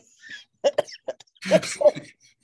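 One person gives a few short throaty coughs and throat-clears at close range, scattered in quick bursts between brief pauses.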